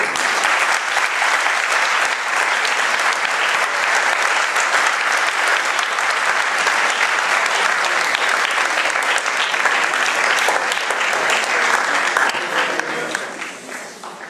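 A crowd gives sustained, dense applause for the Queen of Arles and her maids of honour at a civic ceremony in Arles. Loud and steady throughout, the clapping thins and fades over the final seconds.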